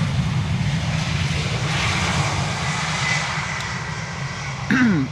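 An airliner comes in to land in a crosswind at Amsterdam Schiphol Airport, a loud, continuous engine roar that rumbles steadily and fades slightly toward the end. Faint talk sits under the engine noise.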